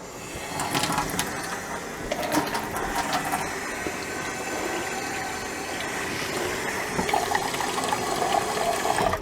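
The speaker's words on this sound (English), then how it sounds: "And what I'm going to use is some water." A steady, close splash of water poured into an Instant Pot holding seared beef juices as the base for a beef stew broth, running continuously with no speech.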